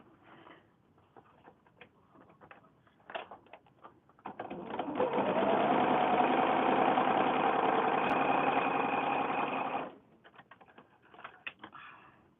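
A sewing machine runs in one continuous burst of rapid, even stitching through a small quilt, framed by quiet handling clicks and fabric rustles before and after.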